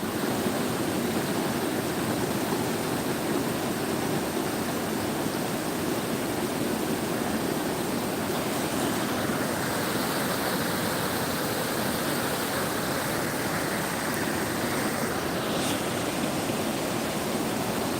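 A village waterfall at the edge of a village beside a large lake, heard as a constant, even roar of rushing water from start to finish with no voices.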